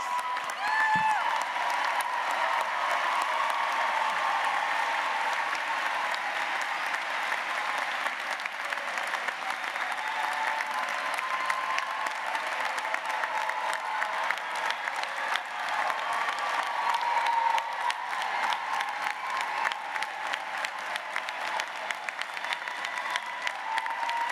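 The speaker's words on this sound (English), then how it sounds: "Let's give them all a hand of applause." A large crowd at a graduation ceremony applauds steadily and loudly for the whole stretch, a dense wash of clapping that neither builds nor fades.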